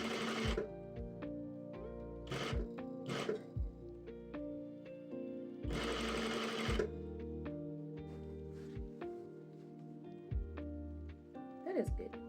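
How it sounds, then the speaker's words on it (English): A domestic sewing machine stitches fabric in short rattling bursts separated by pauses, its whirring motor close and fairly quiet, with soft talk or background sound alongside. "now we are going to sew this"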